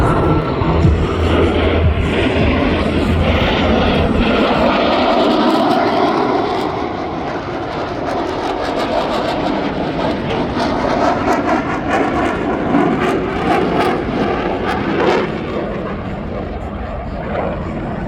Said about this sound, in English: As each aircraft accelerates to 500 miles per hour, they will perform a reversal turn back toward the flight line.